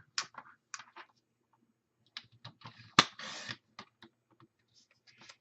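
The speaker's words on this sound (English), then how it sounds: "I'm going to cut 2 slices off of here that are 1 inch each" Paper strips for the hinges of a handmade mini album are cut in a quiet room, making close, short dry clicks and scrapes in scattered bursts, with one sharper snap partway through and a brief rasping cut right after.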